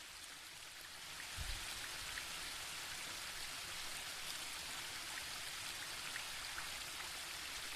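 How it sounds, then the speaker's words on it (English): A rushing waterfall in the video game The Book of Unwritten Tales 2 gives off a steady broad hiss of falling water that rises after a second and stays constant and fairly quiet throughout. "The waterfall and I have been neighbours for so long that I don't really hear it anymore."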